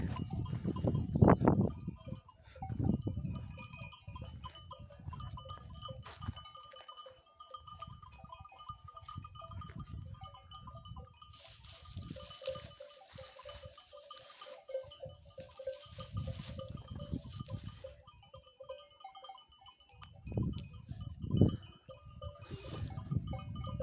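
Sheep and twin lambs on a mountainside give intermittent low bleats, some close and loud, others fainter, while a bell jingles faintly and steadily in the background.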